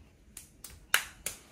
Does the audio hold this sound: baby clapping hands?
yes